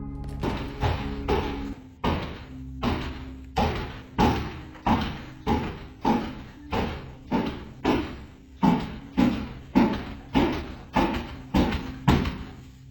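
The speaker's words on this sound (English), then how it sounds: "The heavy knocking grows more urgent as he crosses the house" Heavy, steady knocking on a house door, about two blows a second for over ten seconds, loud, close and dull, with no voices.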